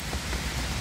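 Rain falls in a brief, steady hiss of patter, even and moderately close.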